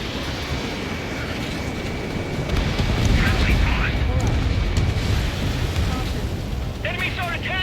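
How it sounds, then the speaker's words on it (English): A missile strikes its target in the Ace Combat 7 flight game, setting off a heavy rolling explosion that swells midway over steady jet and wind roar, with brief radio voices chirping near the end. "Missile hit."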